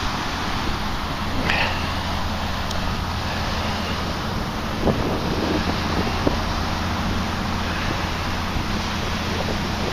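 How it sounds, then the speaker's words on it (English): Wind on a breezy, cool day outdoors by a bay buffets the microphone in a constant loud roar with gusty swells, and a few faint knocks sound beneath it. "It's a little breezy than it was yesterday."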